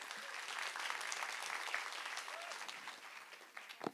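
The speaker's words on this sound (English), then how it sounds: "please give a warm round of applause for Yael Ben David" An audience applauds a conference speaker as she is welcomed to the stage, a steady wash of many hands clapping at moderate level for about four seconds, thinning slightly toward the end.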